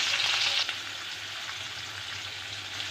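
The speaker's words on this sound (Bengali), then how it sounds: "মাছটাকে ভেজে নেব" Rohu fish pieces rubbed with salt and turmeric fry in hot white oil, a loud close sizzle that drops a little after the first moments and then crackles evenly on its own.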